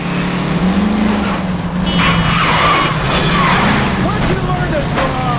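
Tires skid and squeal from a car driven badly in the L.A. Noire video game, a loud sustained screech over a steady engine hum and busy background sound.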